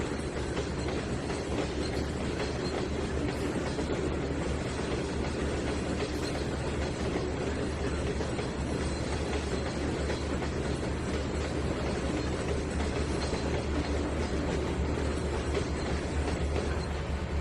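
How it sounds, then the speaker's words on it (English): Train cars roll along the track in the game Trainz 2019 with a steady rumble and faint clickety-clack, continuous and fairly soft, with no voices. "It's a never-ending shuffle of train cars."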